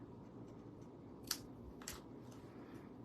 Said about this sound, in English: We're gonna cut out the leaves here.